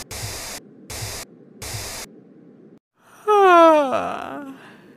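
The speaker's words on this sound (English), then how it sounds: "It's time for me to spray the substance in the air so they can all become unconscious." A substance is sprayed into the air in three short, evenly spaced hissing bursts, followed after a brief pause by a louder wavering vocal moan.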